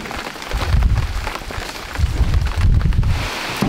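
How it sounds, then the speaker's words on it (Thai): Heavy rain during a storm on Doi Ta Pang in Chumphon, a steady broadband wash with low rumbling gusts, loud and close, with no talking. "ทำไมฝนถึงตกตลอดเลยนะ"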